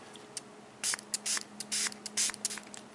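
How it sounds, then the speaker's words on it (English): A series of short hissing spritzes from a spray bottle onto a screen protector's adhesive side, about a dozen quick bursts in irregular rhythm, close by and crisp. "Spray the adhesive side."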